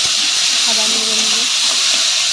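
Potatoes frying in a pan with salt and turmeric are stirred, giving a steady close sizzle and hiss with a brief scraping stir in the middle.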